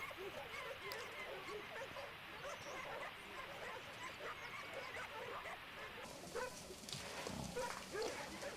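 Hunting dogs bark during a winter wild boar driven hunt, a pack yelping and baying continuously in the distance while a voice speaks over the noise.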